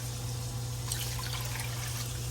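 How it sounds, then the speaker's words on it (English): Water pours steadily into a container, a continuous splashing rush over a low electrical hum. "So now I'm gonna add water"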